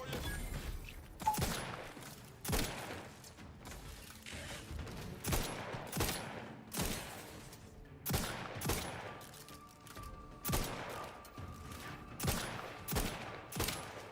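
Video game gunfire from The Outer Worlds 2: a steady run of loud single shots, roughly one every second or so, with reverberant tails over a low background.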